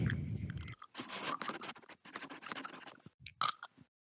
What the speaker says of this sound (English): Man's just chewing on his fucking retainers.